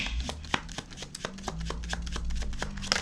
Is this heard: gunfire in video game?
no